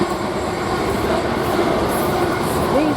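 A South Western Railway electric train led by unit 863 runs past close by toward Waterloo at Queenstown Road on the South West Main Line, a loud continuous rumble of wheels with faint squeals.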